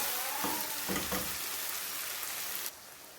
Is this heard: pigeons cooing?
no